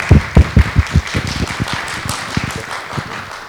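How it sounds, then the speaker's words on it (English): An audience at an agriculture discussion event applauds a group, with heavy close claps at first, then thinning into a lighter scattered patter of hands. "Let's give them a round of applause."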